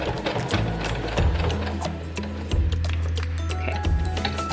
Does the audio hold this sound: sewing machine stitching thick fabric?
yes